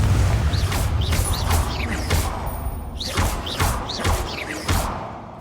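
Bombarda and Confringo spell blasts in Hogwarts Legacy, a run of repeated whooshing impacts and thuds in quick rhythm, loud and close, with no talk.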